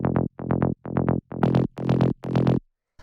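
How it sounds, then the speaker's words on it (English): Buzzy saw-wave synth bass notes through a low-pass filter in quick rhythmic techno bursts, muffled and filtered at first, then brighter and harsher in the later phrases before stopping. "it's just a saw wave going into a low pass filter."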